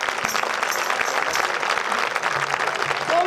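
Steady, dense applause from an audience at an outdoor concert in Piazza Vecchia, continuous clapping throughout with a faint voice briefly audible underneath.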